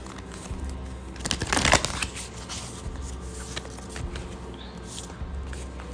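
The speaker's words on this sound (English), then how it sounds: "I'm going to pull a card after I shuffle" A deck of playing cards being shuffled by hand, a brief burst of riffling and rustling in the middle amid softer handling noises, with no talk.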